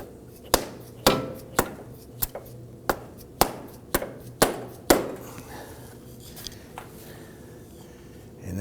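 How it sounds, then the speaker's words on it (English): A rubber mallet knocks a CV axle into the differential of a 2005-2009 Subaru Legacy 2.5L H4, giving about nine sharp, evenly spaced blows followed by a few fainter taps, close and clear. "this is where you're using a rubber mallet on the other end of the axle shaft"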